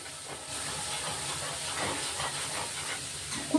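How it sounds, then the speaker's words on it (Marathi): A spice tempering of curry leaves, green chilli and chopped chilli sizzles in hot oil in a pan as a continuous close hiss, with no talk. "मस्त भाजून घेणार आहेत आपण हा मसाला आता।"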